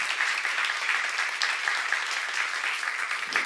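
A church seminar audience applauding, an even wash of many hands clapping from a distance, steady and moderately loud for the whole stretch.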